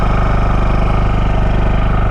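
A portable generator runs inside a vented generator box, its engine giving a close, steady idle hum with a fast rhythmic pulse from the exhaust blowing out.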